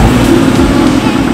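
A blue Zenvo TSR-S on a chassis dyno roars loud and steady at high revs during a brief power run, a dense, continuous engine and drivetrain blare.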